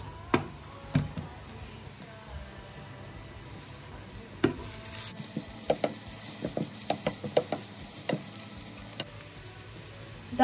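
Soft sizzling of vegetables frying in a pan with scattered clicks and scrapes of stirring, irregular taps rising in the middle stretch.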